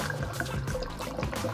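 Drinking water being poured for a one-gallon beer brew makes a short, soft stream of liquid splashing into a container, close and quiet.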